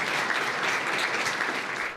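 A big round of applause fills a luncheon venue as a guest walks in among Hong Kong lawmakers, steady dense clapping throughout with no talk over it.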